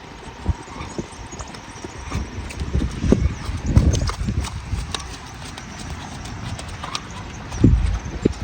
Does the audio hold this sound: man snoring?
no